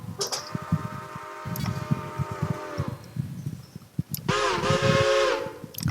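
Standard whistle of a Pennsylvania A5s 0-4-0 model train locomotive: a long, loud blast, then a shorter second blast, with mechanical clicks and rattles around them.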